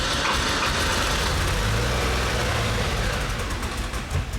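A Porsche 911 that sat unused for 20 years runs roughly after starting, its engine a dense, loud, rumbling drone with ragged low-end pulsing that holds steady throughout, no voices.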